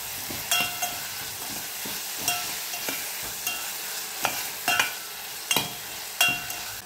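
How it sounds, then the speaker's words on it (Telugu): Onions frying with salt and turmeric hiss steadily in a pan while a spoon stirs and taps against the metal in irregular, close clacks. "అందులోనే మనం కొద్దిగా సాల్ట్, పసుపు వేసి బాగా వేయించుకోవాలి"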